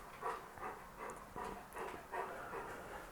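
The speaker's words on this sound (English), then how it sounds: "I think my dog's a bit angry." An indoor pet dog, a male, gives a rhythmic string of soft whines and yelps mixed with low barks, somewhat distant and muffled beneath a steady background hiss.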